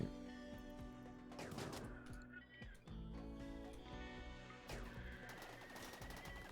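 Centipede mech opening fire in RimWorld, rapid bursts of gunshots rattling over steady game music, with short pauses between volleys.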